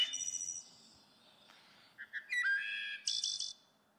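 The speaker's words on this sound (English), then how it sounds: "the wood thrush" A wood thrush sings flute-like, ringing phrases in short bursts separated by pauses, fairly clear against a quiet background.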